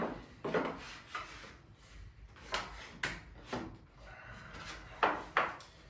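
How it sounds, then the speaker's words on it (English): Wooden sides of a Montessori climbing triangle slid together during assembly, a series of soft scraping rubs and light wooden knocks at uneven intervals, close by and fairly quiet. "So you just slide the small side into where the large side is."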